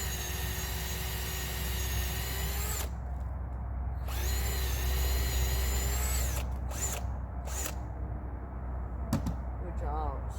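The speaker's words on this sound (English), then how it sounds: "I do have a mark on the drill bit for how deep it needs to go" A power drill bores into a maple tree trunk for tapping in two sustained, steady whining bursts, close and loud, with short pauses and handling noise between them.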